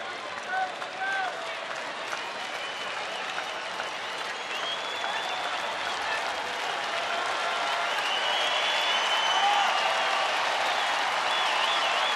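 A stadium crowd at a Rangers baseball game applauds in support of their pitcher, a broad steady wash of clapping that slowly grows louder, with a commentator talking over it.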